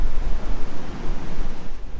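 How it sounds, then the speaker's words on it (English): Strong gusty wind at the coast at Point Culver, Western Australia, buffets the microphone in heavy low rumbles, with a constant wash of surf-like noise behind it. "I hope you can hear this is a bit windy"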